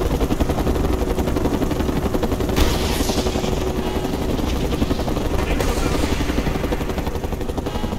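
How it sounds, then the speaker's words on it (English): In the video game Mercenaries 2, a helicopter's rotor chop drones continuously, with rapid bursts of gunfire crackling over it and game voices calling out in the mix. "I'm going for that helicopter!"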